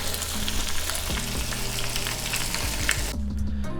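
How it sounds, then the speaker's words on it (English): Tofu fries in a little olive oil in a hot pan, giving a steady, dense sizzle and crackle that continues without a break, close and fairly loud, with no voices over it. "we're going to fry these in that little bit of oil until it gets a nice golden brown"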